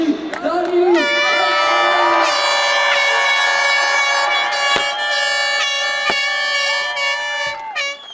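Loud crowd at a Dutch motocross championship ceremony in Oldebroek, with sustained blaring air horns forming long overlapping tones, cheering and shouting underneath, and a few sharp bangs near the end.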